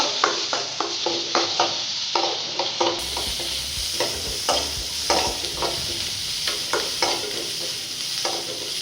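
Steady sizzle of cumin, garlic and onion frying as a tempering, with repeated scraping and stirring clicks from a spatula in a pan, close and continuous, no voices.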